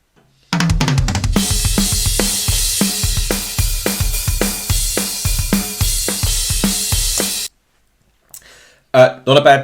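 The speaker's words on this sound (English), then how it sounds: "This is the dry drum sound that we started with." A dry, close drum kit plays a steady beat of kick, snare and hi-hat hits, then stops abruptly, followed by a brief voice.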